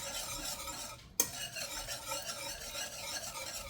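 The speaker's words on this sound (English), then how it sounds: "I'm going to take a whisk and just try to incorporate this stuff all together" A whisk stirs cream of chicken soup and cream cheese together in a pan, producing quick, continuous scraping and swishing strokes, briefly interrupted by a short clunk before the brisk whisking resumes, close and without talk.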